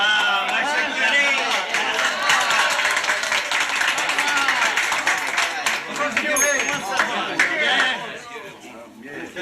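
A crowd claps and applauds in a village gathering for a priest's arrival, dense sustained clapping mixed with chatter and voices throughout.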